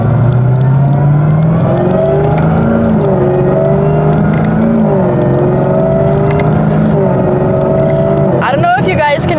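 A modded 750 whp Camaro ZL1 pulls hard from inside the cabin. A loud, steady engine drone and a rising supercharger-like whine climb and dip through gear changes, while a voice speaks over it.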